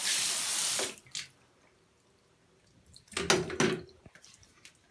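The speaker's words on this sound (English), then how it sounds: "And I now sprinkle the wall with water." Water is sprinkled by hand onto a hemp-lime bathroom wall beside a bathtub: a quick splashy spray, a quiet pause, then a second short burst of droplets, heard close up.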